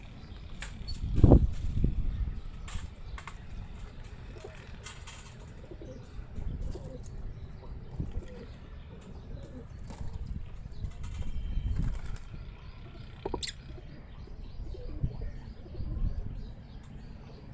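Soft, low coos from a Karachi pigeon and occasional wing flutters close by, with light outdoor background noise.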